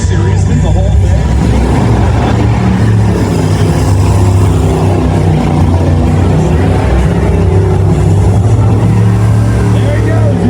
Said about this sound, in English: He's going through the gears.